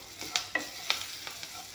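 Taro stems fry in a pan with a soft, steady sizzle, broken by repeated light scrapes and clicks of a spatula stirring at a moderate pace, fairly quiet and with no talk.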